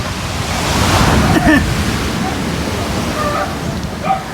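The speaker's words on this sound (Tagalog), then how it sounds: "Lakas ang alo, no?" Strong ocean waves surge and break in a loud, continuous wash of surf with wind buffeting the microphone, a few faint voices barely audible beneath the roar.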